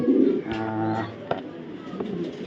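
A racing pigeon coos close by in a few soft, throaty, rolling phrases, with a person speaking briefly in the background.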